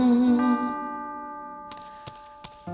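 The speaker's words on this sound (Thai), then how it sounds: "ได้ยินเสียงระฆัง" A single bell rings out with a sustained, ringing tone that slowly fades, followed by a few faint clicking ticks.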